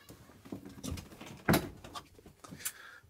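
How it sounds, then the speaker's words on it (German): A motorhome door swings shut with a single sharp thud near the middle, set among soft shuffling and footsteps inside the vehicle, close and moderately loud. "Tür zu."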